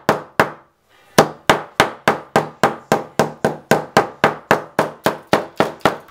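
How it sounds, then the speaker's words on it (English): A wooden mallet whacks wire flat for a DIY name hanger, striking about seventeen times in a loud, steady, regular rhythm with one short pause near the start, each blow a sharp close thud. "I used a wooden mallet and just whacked it down a few times"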